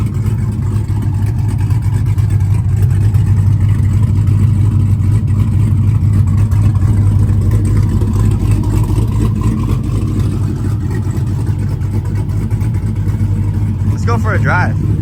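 A straight-piped, cammed Jeep SRT8 idles with a loud, deep, lumpy exhaust chop that runs steadily and close throughout, with voices speaking over the rumble.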